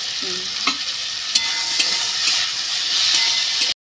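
Vegetables fry and get stirred in a hot pan, a steady bright sizzle with a few scraping knocks of the spatula, close and fairly loud, with no voices.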